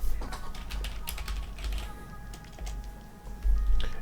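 Fingers type on a computer keyboard nearby, scattered light key clicks in short uneven runs over a low steady hum.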